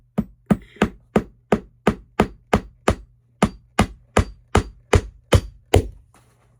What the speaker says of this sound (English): nail, hammer it.